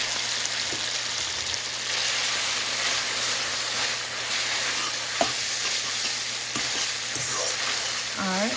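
Noodles stir-fry in a pan with chili flakes, a loud steady sizzle with occasional scrapes and tosses of a utensil, no talking.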